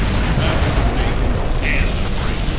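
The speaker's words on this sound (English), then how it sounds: "Commencing missile bombardment" Missile bombardment in Command & Conquer Generals produces a dense, continuous roar of overlapping explosions, loud and unbroken, with voice-like sounds blended into the din.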